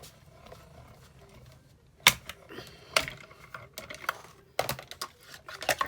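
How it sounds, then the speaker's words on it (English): A small, lightweight die-cutting machine for skinny dies runs paper through its rollers, giving a close sequence of sharp clicks, rattles and grinding bursts that start quietly and come in uneven pulses. "It's really handy, this little machine. It's for the skinny dies."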